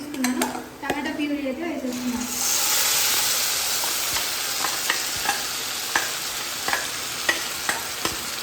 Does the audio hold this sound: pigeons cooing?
no